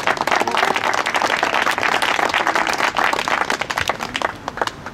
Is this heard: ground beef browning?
no